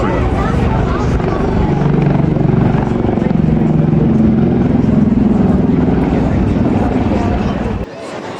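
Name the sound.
Wildcat helicopter flypast at air show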